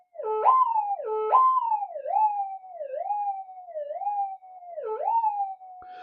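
Minelab GP 3000 gold metal detector responding to a test target on a stick, giving a clear warbling tone that rises and dips repeatedly, like a siren, with no voices.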